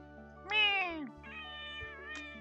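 A pet cat meows close by indoors: one rising and falling meow, then a longer, drawn-out second call, both fairly soft against a quiet room with no talking.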